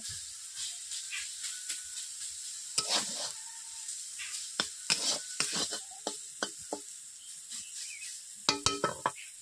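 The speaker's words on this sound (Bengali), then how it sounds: "এরপর খুন্তি দিয়ে আমি যেমন ভাবে মাছগুলো উল্টে উল্টে ভাজে, এইভাবে আমি উল্টে পাল্টে" Gima greens fry in an oiled pan with a steady soft sizzle, while a spatula turns them in sharp, irregular scraping clatters close by.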